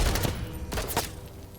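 A strafing gun firing in a video game, a short rapid burst of several punchy shots in quick succession, loud and close.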